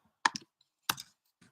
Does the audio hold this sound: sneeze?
no